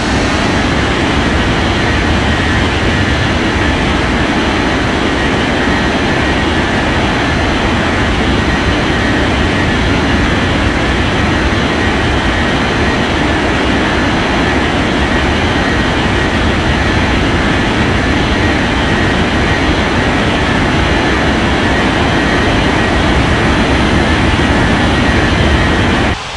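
An airliner roars down the runway for takeoff in the Unmatched ATC air traffic game, a steady, loud, broadband jet engine rumble that holds without letup for nearly half a minute, with no talking.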